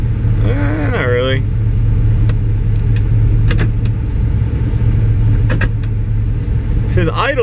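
Car engine idling with slight rev changes during a torque converter stall test, after an EGR valve replacement; a steady low rumble runs throughout, with brief higher sounds, and a voice speaks near the start and end.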